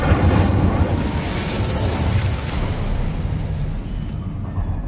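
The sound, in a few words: Incendio fire spell explosion in the video game Hogwarts Legacy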